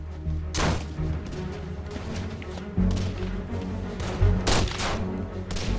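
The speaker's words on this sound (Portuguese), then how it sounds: "Embora alvo do fogo inimigo, Nelson consegue armar a carga." Gunfire crackles in a battle, several sharp shots and heavier booms spaced irregularly over a low rumbling background, fairly loud.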